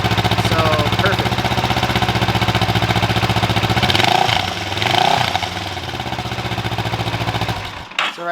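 A Kawasaki Versys 650 motorcycle engine idles steadily and loudly close by, holding a constant even hum for the whole stretch with a slight dip in level near the end.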